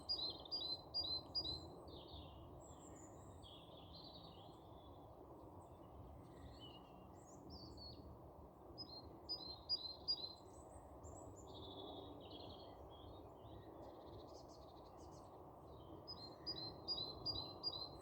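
Small birds chirp and sing outdoors in repeated bright phrases over a steady low rumble of background noise, fairly faint and distant throughout.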